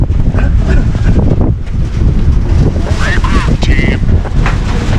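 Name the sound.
strong typhoon wind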